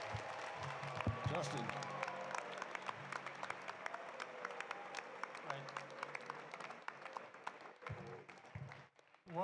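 A crowd at a Summer Games opening ceremony applauds for the athletes, a sustained burst of dense clapping with a few scattered cheers and a voice speaking over it.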